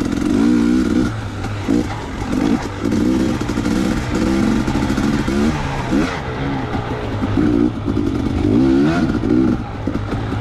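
Loud dirt bike engine racing around a track, revving hard and shifting through gears with a constant buzzing drone, recorded up close from the rider's position with no voices.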